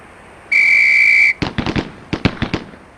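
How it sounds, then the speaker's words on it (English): A steady, piercing whistle blast sounds at a police firing range in a video game, followed by a quick volley of sharp pistol shots in two tight bursts. "On the whistle."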